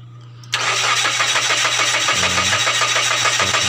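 A Mazda 3 that cranks but won't start has its starter engaged, and a loud, steady, rhythmic cranking whir sets in abruptly over a low background hum and carries on for about three seconds without catching.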